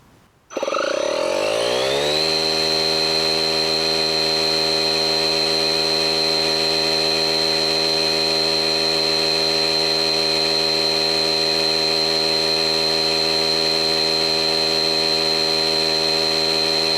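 A DEWALT cordless tire inflator runs steadily while pumping air into a tire, starting with a quick rise and then settling into a loud, even, sustained mechanical hum with a high whine.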